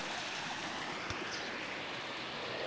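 Bush river at a Coromandel crossing in New Zealand rushing steadily and faintly, with a brief knock near the middle.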